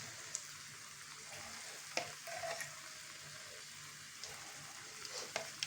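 Sweet kuzhi paniyaram frying in oil in a paniyaram pan just after flipping, giving a soft, steady sizzle with a few faint clicks and light scrapes, quiet and close with no talking.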